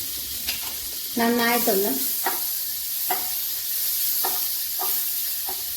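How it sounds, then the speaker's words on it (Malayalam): Butter and oil sizzle steadily in a hot pan for a butter garlic egg dish, a constant bright hiss with a few soft clicks, and a voice speaks briefly over it. "അങ്ങനെ നമുക്ക് 1 ടേബിൾ സ്പൂൺ ബട്ടറും കൂടി ചേർത്ത് കൊടുക്കണം"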